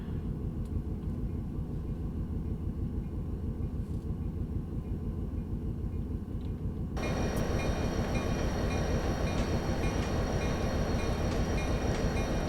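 In Train Simulator, a steady, heavy Aerotrain locomotive engine drones and rumbles continuously, stepping up to a louder, denser roar partway through as it moves to notch 2, with no voices.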